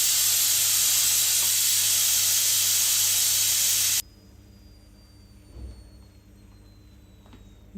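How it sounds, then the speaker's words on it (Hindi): A loud, steady blast of steam hisses from a pressure cooker as its whistle is lifted, for several seconds, then cuts off abruptly, leaving quiet room noise and a faint clink. "अब विसल को उठा देते हैं"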